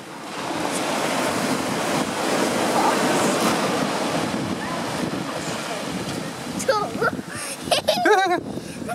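Winter sea waves rolling onto a beach, a loud continuous wash and roar with wind buffeting the microphone and voices talking near the end.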